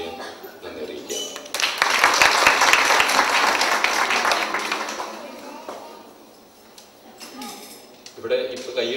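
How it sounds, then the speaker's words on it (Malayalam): A celebration audience claps together in front of a stage, a dense burst of applause swelling after a few seconds, then fading to scattered claps with some speech before picking up again briefly. "ഇവിടെ ഇപ്പൊ കൈയടിച്ചുകൊണ്ടിരിക്കുന്ന ഒട്ടുമുക്കാൽ ആൾക്കാർ ദമാം കോവാറും കൈയടികളാണ് ഈ കേൾക്കുന്നത്"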